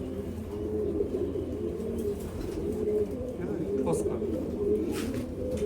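Giribaz pigeons, a high-flying breed, coo in soft low murmurs that run steadily under a continuous bed of room noise, close by with no clear pauses.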